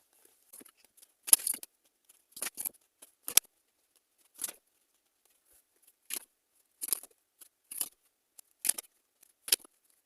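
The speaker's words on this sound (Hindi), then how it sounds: "कुछ कार्ड्स लेते हैं।" Tarot cards are drawn from a deck in a series of soft, crisp slides and flicks. They come in irregular short bursts with quiet gaps between them, close and faint, with no talking.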